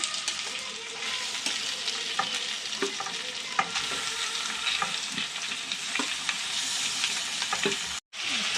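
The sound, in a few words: grated potatoes frying and being stirred in a pan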